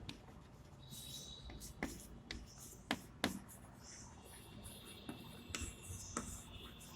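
Pen writing on paper while working out a maths problem on triangles, a series of short, sharp scratching strokes at an uneven rhythm, close and fairly quiet over a soft background hum.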